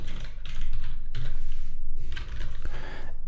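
Computer keyboard typing during app design work, a close run of light irregular key clicks and taps in quick clusters with brief pauses, no talking.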